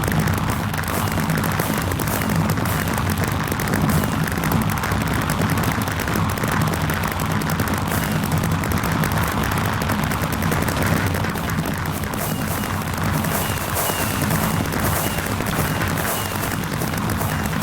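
Minecraft modpack fireworks bursting continuously, a dense rapid crackle of popping blasts that stays loud and unbroken throughout, with no voices.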